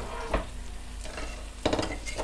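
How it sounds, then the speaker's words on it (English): Diced onion and cleaned, cut button mushrooms fry in butter in a pan, a steady low sizzle broken by two louder bursts of stirring and scraping, with no voices. "I'm gonna allow my onion to cook in the butter"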